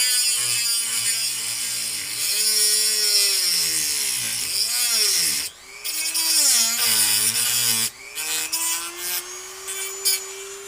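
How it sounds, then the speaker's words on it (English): An abrasive metal cutting saw grinds steadily through an airsoft gearbox shell, a loud whining cut that rises and falls in pitch as the load changes, with brief pauses near the middle and end. "we have now connected those 2 holes together with the abrasive metal cutting saw"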